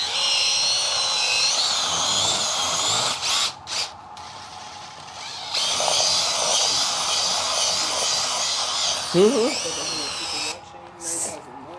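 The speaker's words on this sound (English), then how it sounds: "We are doing epoxy, and I am drill mixing" A cordless drill mixing non-sag countertop epoxy whirs steadily and loudly, with brief stops and restarts along with some handling clatter.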